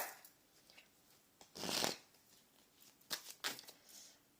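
Tarot cards are shuffled by hand in a few faint, quick riffling bursts, one longer sweep followed by several short shuffles, with quiet room tone between.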